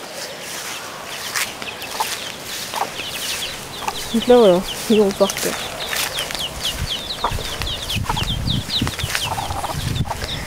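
Hen clucking with her chicks in bushes outdoors, with soft repeated clucks and faint high peeps scattered throughout, a brief louder call near the middle, and someone talking quietly over it.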